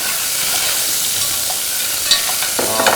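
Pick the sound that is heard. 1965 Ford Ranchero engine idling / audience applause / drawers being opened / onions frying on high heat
onions frying on high heat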